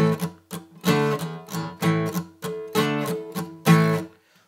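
An acoustic guitar plays a power chord riff, strummed chords alternating back and forth in a steady, choppy rhythm of short bursts and brief gaps, played up close and alone.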